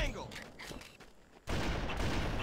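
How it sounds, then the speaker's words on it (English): Bursts of gunfire from shooting aliens in a video game, rapid rattling shots in the first half, then a sudden dense, loud wall of noise, with a voice speaking under it. "But now you just get to shoot aliens"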